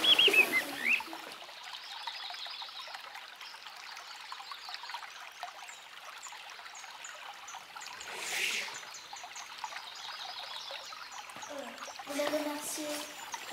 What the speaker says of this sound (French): On va respirer l'air et on va écouter les oiseaux.